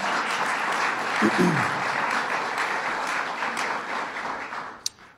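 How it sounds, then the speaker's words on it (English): An audience at a bill-signing event gives a sustained round of applause, a dense, even wash of clapping that holds steady and then tapers off at the end, with a brief voice heard over it. "Let's give them a round of applause."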